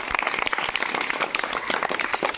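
Children in a classroom clap together, a quick run of sharp, uneven hand claps close by that continues steadily for a couple of seconds.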